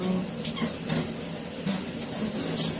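Shower water runs steadily while hair is rinsed during a wash-and-go routine, a continuous close hiss with slight splashing changes.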